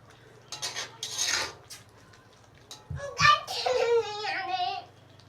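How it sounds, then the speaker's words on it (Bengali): A spoon scrapes and clinks against a pan while rui fish curry is stirred, with clattering, and a voice in the background near the end. "একটু নেড়ে নিব"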